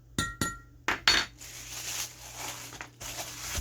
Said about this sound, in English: Get it stirred up nice and good.